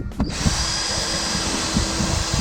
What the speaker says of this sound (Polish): Następnie szybko bierzemy dwa wkręty, wkrętareczkę.